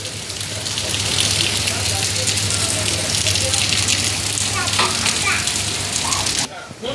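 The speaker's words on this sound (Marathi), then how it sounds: "पाऊस बघू शकताय धो धो धो धो चालू आहे रात्रीपासूनच" Heavy monsoon rain pours down steadily outside a home facing a school's trees, a dense loud wash of drops that holds for most of the stretch before dropping away near the end.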